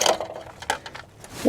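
A metal engine mount fastener from a GM 5.3L V8 truck or SUV is dropped, giving a few short, bright metallic clinks spread across a second and a half in a quiet workshop.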